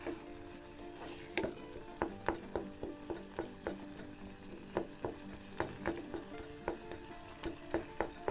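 Chopped tomatoes cook in a pan over medium heat to make pizza sauce, with a low, constant sizzle under a run of sharp, regular clicks and taps from a spatula.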